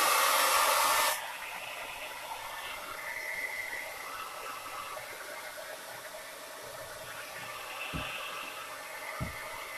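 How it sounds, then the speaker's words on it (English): A hair dryer blasts loudly at close range for about a second drying chalk paint paste on a piece, then cuts off abruptly, leaving faint background noise with a couple of small knocks. "I'm going to try to blow dry them."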